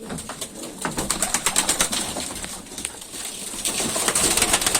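Pigeons coo and flutter nearby in a steady, busy chorus, with soft rustling and wing movement throughout and no voices.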